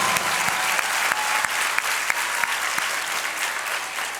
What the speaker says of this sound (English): we can have a round of applause for